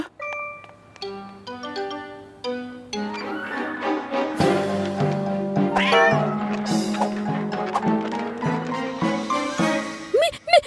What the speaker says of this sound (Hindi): मीला, बिल्ली को बचाओ।